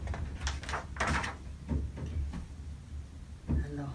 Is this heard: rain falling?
no